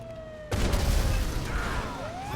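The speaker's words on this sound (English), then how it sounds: "I do like an explosive shotgun" A single loud explosive shotgun blast in GTA Online, a sudden boom that rings out with a noisy tail over faint background tones.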